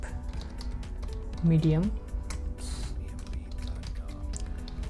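Light keystrokes tap on a computer keyboard in a short burst while someone speaks briefly, the clicks faint and close.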